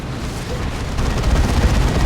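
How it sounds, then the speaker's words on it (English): Lascannon turret fire in a Dawn of War 2 3v3 match, a dense rumbling barrage of heavy booms and blasts that grows louder midway, continuous battle noise with no talk. "That was a las cannon turret. Got some decent shots in."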